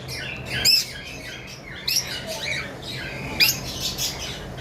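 A pair of lutino and red-head opaline lovebirds squawking up close, with three or four sharp harsh calls spaced a second or so apart over a low background hum.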